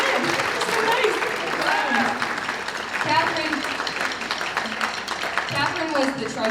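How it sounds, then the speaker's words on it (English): Audience at a school spring concert and jazz band performance applauding steadily throughout, dense clapping with voices and cheers mixed in. "Catherine, you're clapping"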